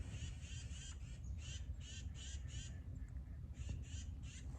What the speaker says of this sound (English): those birds are loud this morning